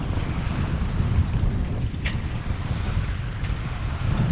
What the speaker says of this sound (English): the wind and the waves